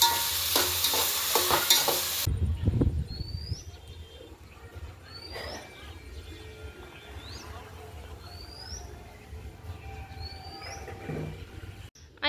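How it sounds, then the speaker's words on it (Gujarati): Vegetables and rice fry in oil, a faint steady sizzle with stirring scrapes after a loud clatter at the start, while birds chirp repeatedly in the background. "હવે આને છે ને એકદમ બધું તેલમાં પાકવા દેવાનું છે"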